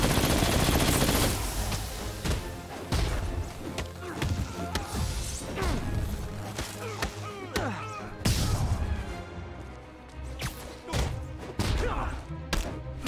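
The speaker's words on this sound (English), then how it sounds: "Dodging rockets is a lot more fun than getting hit by them." Rockets are fired and explode in Marvel's Spider-Man on PS4, a rapid barrage of sharp blasts, crashes and thuds, loud and close, with a few quieter gaps between volleys.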